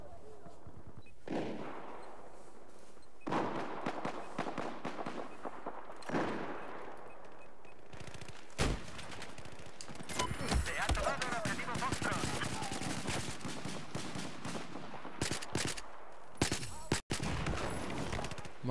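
Gunfire from the video game Battlefield 4 on Xbox One, China Rising DLC: dense bursts of automatic fire and explosive blasts, loud and continuous through the second half, with a voice speaking over the action.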